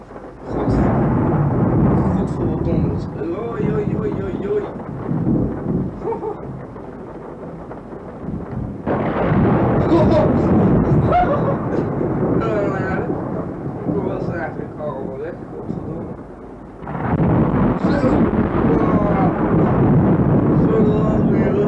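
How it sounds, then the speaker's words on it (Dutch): A thunderstorm recorded in 1980 brings heavy thunderclaps that rumble in three long, loud rolls, each swelling suddenly and then slowly fading. "Oei, we hebben een donderslag zeg."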